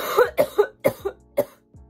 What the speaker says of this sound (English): not me already coughing.